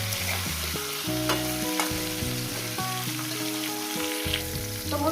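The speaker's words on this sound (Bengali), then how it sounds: "বেগুন আর কাঁচা লঙ্কা আমি এরকম 4-5 মিনিট ধরে ভেজে নেব।" Eggplant and green chili sizzle in hot oil in a pan while being stirred, a steady frying hiss with occasional scraping stirs and background music, no talking.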